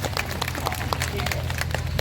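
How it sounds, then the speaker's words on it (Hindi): A crowd at a church Bible class claps for one another, a dense, steady patter of many hands lasting throughout over a low background hum. "एक बार एक दूसरे के लिए ताली बजा दीजिए"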